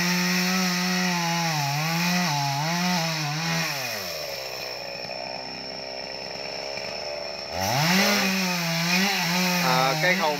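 A chainsaw roars close by cutting a tree, its engine pitch rising and dipping as it bites into wood, briefly easing off before revving hard again.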